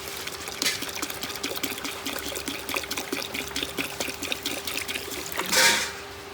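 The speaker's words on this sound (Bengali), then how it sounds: "অল্প গোলাপ জল" Rose water is poured into a pot of Murshidabad-style biryani, giving a soft, steady trickle that runs close up under a background hum and ends in a brief louder splash.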